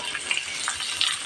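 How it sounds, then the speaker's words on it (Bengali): Chopped onions fry in a pan with a soft, steady sizzle and faint crackles, close and alone for a short moment. "পেঁয়াজ কুচি হালকা ভেজে নেব"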